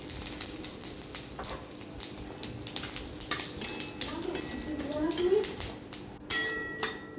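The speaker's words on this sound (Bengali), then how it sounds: "সেই ভাজার তেলটা রয়ে গেছে, ওর মধ্যেই দিয়ে দেবো ফোড়নটা" Dry chillies, bay leaf and five-spice tempering hit leftover frying oil in a home kitchen pan, crackling and sizzling steadily under occasional clinks of utensils and stirring, with a voice speaking over it.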